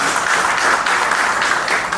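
Steady, dense applause from a crowd, many hands clapping at once, loud and continuous throughout with no voices on top.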